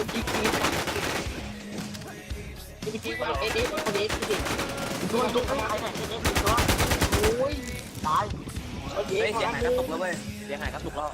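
Gunfire in the video game Warzone, with rapid automatic bursts and repeated shots spread across the clip, loud and close, while a player talks excitedly over the shooting.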